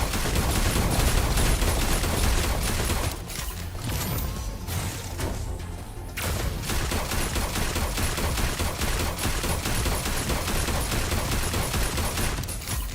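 Sustained rapid gunfire in the Super Mecha Champions mech shooter game. A dense, loud stream of shots runs the whole time, with brief thinner stretches and whooshing and mechanical sounds mixed in, and no talk.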